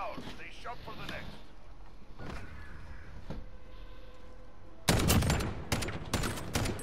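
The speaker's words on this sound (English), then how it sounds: "I hit him once with the MK carbine." MK carbine shots in Modern Warfare, a quick cluster of loud cracks after quieter game ambience, with faint scattered sounds and talk earlier on.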